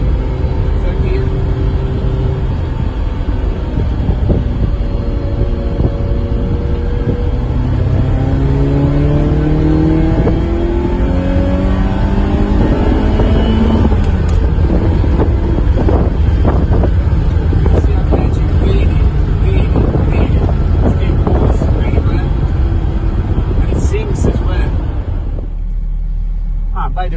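A 1984 Ferrari Mondial QV engine pulls hard in third gear, a loud rising rumble with climbing harmonics heard from inside the cabin over wind noise, easing off sharply at the very end.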